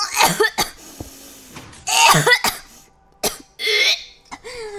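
Several sharp coughs in quick bursts, close to the microphone, with brief pauses and a bit of background voice between them.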